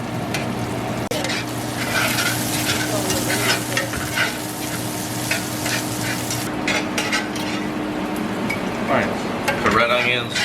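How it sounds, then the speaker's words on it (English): Red onions and mushrooms with fresh thyme, salt and pepper sizzle steadily in rendered Wagyu fat, with frequent tossing and stirring scrapes over a continuous frying hiss; a voice talks near the end. "we're going to toss the onions around a little bit more to get the onions more caramelized"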